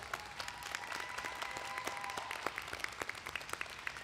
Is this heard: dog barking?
no